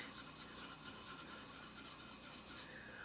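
Steady rubbing across a 20 oz stainless steel tumbler, a continuous soft rasping scrape that keeps an even rhythm throughout and sits close and fairly quiet with no voices.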